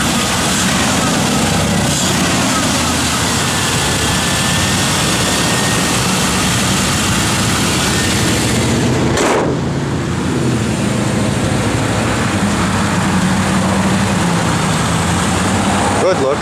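A 1961 Chevrolet Bel Air engine running steadily at idle, a continuous broadband rumble throughout with no distinct revving, close and fairly loud.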